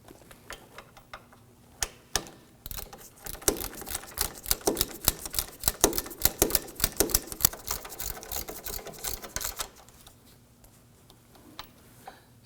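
Ratchet tightening bolts on a 2008–2011 Ford Focus front knuckle assembly, a rapid burst of close clicking over several seconds, framed by a few isolated clicks and quiet gaps.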